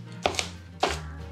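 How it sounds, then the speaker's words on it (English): Knife chopping onion or shallot on a cutting board while making bacon and onion jam, two sharp close cuts in a quiet kitchen. "While you're chopping"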